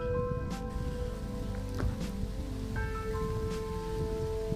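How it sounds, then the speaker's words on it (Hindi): Rain falls in Sheikh Badin National Park during sunshine, a soft steady patter of drops on surfaces with occasional sharper splashes close by, continuous and fairly quiet, with no voices. "आज ये तीसरी बार बारिश हो रही है।"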